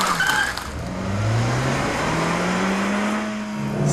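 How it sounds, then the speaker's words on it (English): A Suzuki car pulls away slowly on a wet race track, its engine droning and rising gradually in pitch at moderate loudness, with tire noise and a little hiss over the top. "This thing doesn't get off the line at all."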